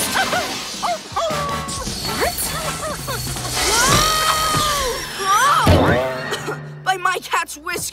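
Cartoon dogs bark and yip in short bursts, mixed with animated voices, crash effects and busy background sound.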